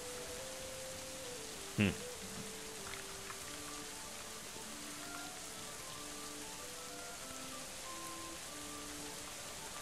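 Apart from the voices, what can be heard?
rain falling in video game Going Medieval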